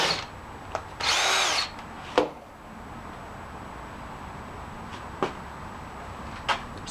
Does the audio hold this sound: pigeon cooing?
no